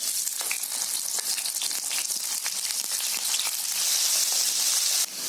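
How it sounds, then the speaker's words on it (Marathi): Potato slices fry in a little oil on a flat griddle pan with a dense, continuous crackling sizzle that stays close and loud throughout, with no voices. "आता तव्यामध्ये मी तेल टाकलंय थोडासा आणि त्याच्यामध्ये आहे ना ही बटाटी टाकते आणि फ्राय"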